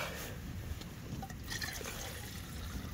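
Water is poured into a container at a wild coastal camp in Scotland, a faint, steady trickling splash heard close over soft outdoor background noise.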